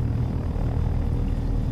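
A helicopter in the flight game Take on Helicopters drones with steady, loud rotor and engine rumble that fills the whole stretch without pause.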